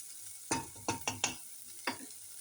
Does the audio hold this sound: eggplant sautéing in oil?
yes